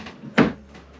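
A shower door on a boat bangs once in a single short, fairly loud knock, with faint room noise before and after.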